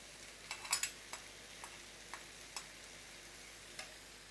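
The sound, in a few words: dry fish and garlic frying in a pan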